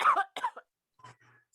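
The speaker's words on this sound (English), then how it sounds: "so this is cough" Several close, harsh coughs in quick succession, followed by quieter throat-clearing sounds and a final cough after a short silence.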